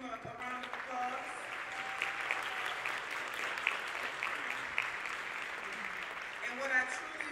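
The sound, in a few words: concert audience applause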